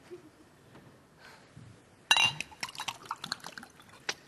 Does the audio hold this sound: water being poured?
yes